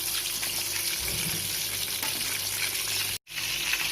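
KFC-style chicken deep-frying in hot oil gives a continuous bubbling sizzle, steady and close, broken by one brief moment of silence near the end.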